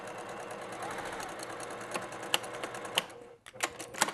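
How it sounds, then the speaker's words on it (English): A sewing machine runs steadily as it stay-stitches the corner of a photo-transfer tote bag, a continuous close mechanical whir with small clicks near the end and a brief pause. "I'm basically making a stay stitch or a safety stitch just to hold it in."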